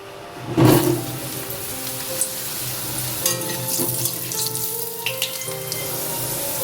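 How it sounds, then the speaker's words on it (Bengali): Potato pieces frying in hot mustard oil in a pan, a loud steady sizzle that surges as they go in, with occasional stirring clinks and scrapes and no voices. "সর্ষের তেল দিয়েছি তেল গরম হলে আগে আলুগুলো ভেজে নিচ্ছি"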